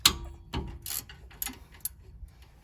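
An 18mm wrench works on the rear brake bracket bolts of a 2009 Jeep Wrangler, giving sharp metallic clicks and ratcheting knocks, a few close, quiet strikes spread over a couple of seconds.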